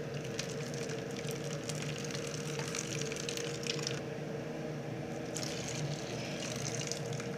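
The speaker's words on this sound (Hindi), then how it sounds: "एक छलनी में ये इस तरह से हम पानी जो है वो सारा निकाल लेंगे" Water drains from lemon-curdled milk poured through a strainer in a home kitchen, making a steady, close trickling and splashing that runs the whole time without pause, with no voices.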